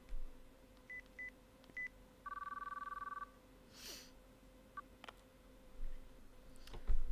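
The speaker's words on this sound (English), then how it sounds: "I took the phone from Ito and dialed the number." Telephone number dialed in the visual novel Chaos;Child: a run of short DTMF tone beeps, then a longer rapid burst of dialing tones, followed by faint clicks and a soft whoosh over a steady low hum.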